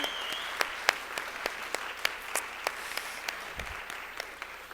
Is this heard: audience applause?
yes